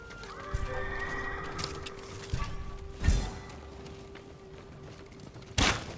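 Horse neighing in the samurai video game Ghost of Tsushima, with a whinny near the start, clopping hooves and a loud snort or neigh at the end over steady ambient game background.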